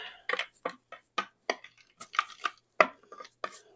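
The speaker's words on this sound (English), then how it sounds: "Let's give it a little mix here." A utensil mixes a shrimp marinade of cumin, sea salt and black pepper in a bowl, giving a steady series of short, crisp clinks and taps at close range, with no talking.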